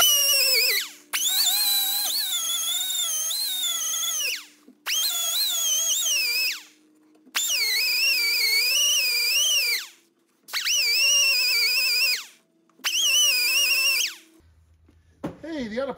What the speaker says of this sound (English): it's an air sander, a little disc pad, you know? And I just sand them down until that disappears